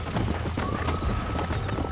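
Horse hooves clip-clopping in Red Dead Redemption, a steady run of near, fairly loud hoofbeats over low rumbling ambience, with a brief whinny-like tone partway through.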